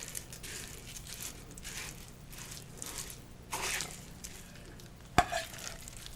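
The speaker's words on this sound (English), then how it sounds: "This all get mashed together." Sarmale filling of meat and chopped dill mashed and stirred together by hand, a soft wet squishing with repeated squelchy pulses near the mic, ending in one sharp louder click.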